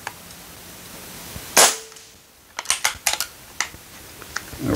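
An airgun fired through a 3D printed suppressor: one loud, sharp shot, then a run of quicker, lighter cracks and mechanical clicks up close, with no talking.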